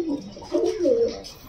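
An Indian high-flying pigeon in a loft coos softly up close, giving a short, low, throaty rolling call.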